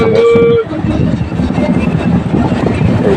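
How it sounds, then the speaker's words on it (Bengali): A suburban circular-railway train rolls on its rails as it pulls into Birati station, making a loud continuous rumble and rattle heard from inside the carriage. A short tonal whine comes at the start, and there is no talk. "বিরাটি ঢুকছে আমাদের ট্রেন এখন।"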